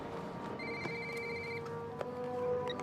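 A telephone rings through a horror film scene featuring the Leprechaun, a steady electronic ringing tone repeating over a dense low background, with a few sharp knocks in between.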